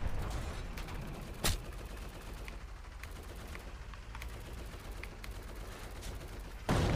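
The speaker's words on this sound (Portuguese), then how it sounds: "Por que tem um player atirando em mim?" Gunshots ring out in a Roblox war game, with two loud sharp cracks near and several fainter distant pops scattered between them, no voices.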